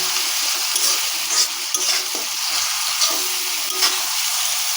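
Chopped onion fries in hot oil with whole spices, a close, even sizzling hiss punctuated by soft periodic stirring strokes of a spatula, and nobody speaks.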